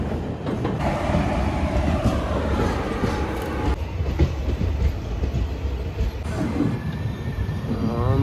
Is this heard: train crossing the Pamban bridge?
yes